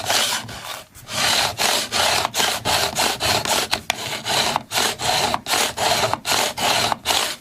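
A file bevels the fret ends on a Sunn Mustang Strat during a full re-fret, making steady rhythmic rasping strokes, about two per second, close and fairly loud, with no talking.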